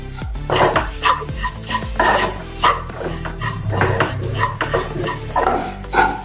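Ridge gourd and potato being stir-roasted with roasted gram flour in a pan over low gas. A spatula clanks and scrapes the pan in a quick, repeated rhythm, loud and close, with a faint sizzle beneath.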